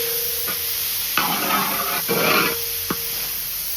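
Onions with turmeric and salt sautéing in a pan for chicken curry: a steady, close sizzle, with two louder bursts of frying and stirring and a few brief utensil knocks against the pan.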